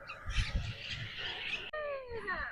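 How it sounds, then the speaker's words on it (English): Harsh, raspy squawks from several wild parrots overlap in a noisy chorus at a river beach in Cape Coral, Florida, then a clearer run of descending screeching calls follows, fairly close. "Have you ever heard wild parrots before?"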